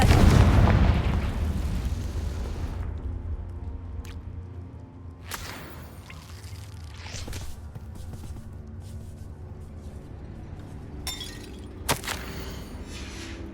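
In the Hogwarts Legacy video game, a Confringo fire spell goes off with a loud opening blast that decays into a rumble, followed by several sharper cracks and pops spread over the following seconds.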